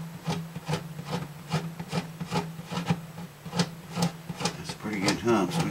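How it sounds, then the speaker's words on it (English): Dried white glue being scraped down on a chipped guitar finish, giving a steady series of short rasping strokes, close and fairly loud, with a low hum underneath. "let's see if we can scrape it down a little bit."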